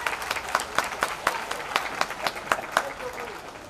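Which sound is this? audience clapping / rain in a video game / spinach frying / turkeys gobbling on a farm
audience clapping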